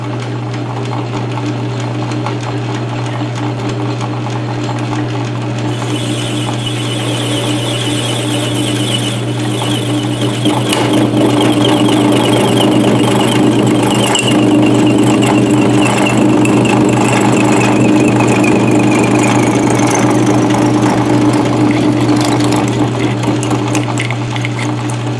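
A lathe cuts metal with a high-speed steel tool while making a vise handle spacer, giving a steady loud machine drone and hum with a thin squealing cutting tone over it throughout.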